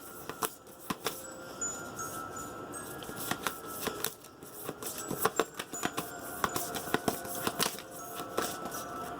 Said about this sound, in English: we're just having some shuffling difficulties here